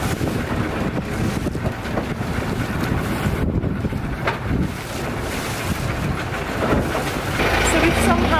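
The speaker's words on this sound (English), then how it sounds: "So this is us getting on our boat." A river tour boat in Bangkok rumbles steadily with heavy wind buffeting the microphone and water noise throughout, a continuous dense roar without clear voices.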